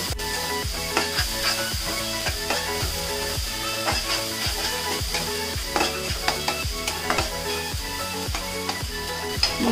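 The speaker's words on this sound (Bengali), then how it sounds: "এখন মশলাগুলোকে কিছুক্ষণ ভেজে নিব।" Spices with chili powder and salt fry in a pan with a steady sizzle, broken by regular scraping stir strokes, close and loud throughout with no talking.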